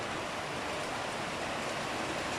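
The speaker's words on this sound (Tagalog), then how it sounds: "It's raining already." Steady, hissing rainfall, an even wash of noise with no breaks, moderately quiet and without any voices.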